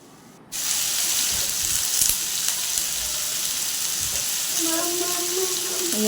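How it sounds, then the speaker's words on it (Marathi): Onion, cashews and tomato sautéing in a pan for a cashew curry, a steady close sizzle running throughout, with a faint tonal hum near the end and no talk. "आता टोमॅटो देखील थोडंसं सॉफ्ट होऊपर्यंत आपल्याला ह्याला परतायचं आहे"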